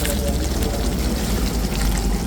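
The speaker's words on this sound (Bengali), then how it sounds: "এখন আমার হাতে বানানো টক দইটা এখানে দিয়ে দিচ্ছি" Homemade sour yogurt is tipped into a pan of chicken curry, a close, thick pouring and sloshing sound running briefly and fairly loudly, with no talk over it.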